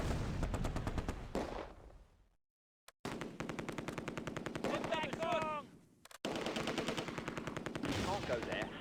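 Vickers machine gun and rifle fire in the World War II game Close Combat: A Bridge Too Far, at the Oosterbeek landing zone. Dense, rapid bursts rattle steadily, broken by one short silent gap before the shooting resumes.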